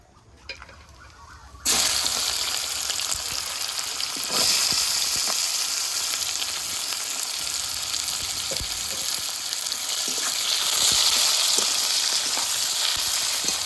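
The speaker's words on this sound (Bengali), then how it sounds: "পেঁয়াজ ভাজা ভাজা হয়ে গেছে" Onions drop into hot oil with whole garam masala, cumin seeds, dried red chillies and bay leaves. A sudden loud burst of sizzling settles into a dense, steady frying hiss, with occasional stirring knocks close by.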